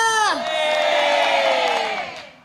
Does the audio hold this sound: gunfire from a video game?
no